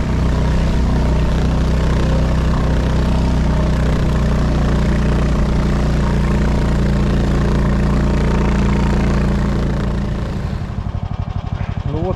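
The engine of a glisser airboat setting off on a taiga river roars loud and close in a steady drone, then shifts and fades near the end.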